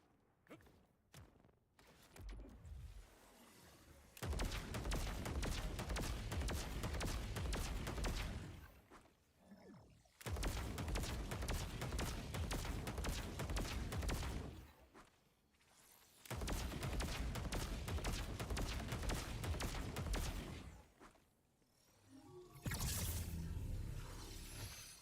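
Gunfire from a 15-round weapon in the Borderlands video game comes in three long, dense sustained bursts with brief gaps between them. A short loud shot opens the clip and another burst starts at the end.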